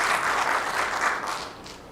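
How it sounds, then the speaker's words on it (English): An audience at a domestic violence awareness panel applauds a panelist, a full burst of clapping that starts strong and gradually thins and fades over two seconds. "Please give me a hand of applause for her."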